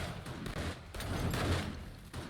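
Rapid gunfire bursts in the zombie survival video game 7 Days to Die, a dense rattling fusillade of shots at moderate level with booming low end, no talk over it.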